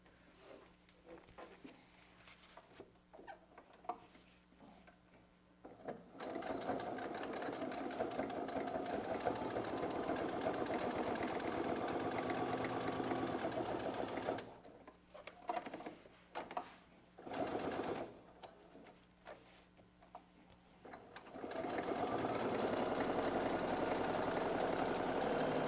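A sewing machine stitches a fabric bag handle in several bursts of rapid, buzzing whirring, with short pauses between runs of stitching.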